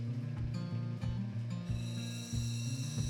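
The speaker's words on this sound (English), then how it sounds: "I find it extremely satisfying to watch just the material disappear onto the wheels." A crystal opal is ground against a spinning lapidary grinding wheel, producing a steady close whirring drone with repeated scraping contacts as the stone is pressed and lifted in a regular rhythm.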